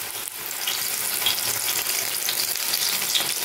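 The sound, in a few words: coriander leaf pakoras frying in oil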